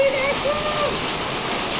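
A heavy summer downpour with hail pours down in a dense, unbroken roar, loud and close, with faint voice-like tones briefly rising through it.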